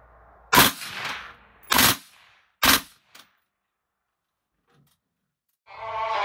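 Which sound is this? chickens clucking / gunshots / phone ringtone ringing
gunshots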